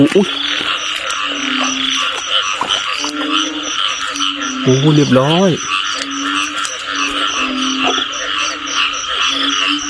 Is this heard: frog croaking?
yes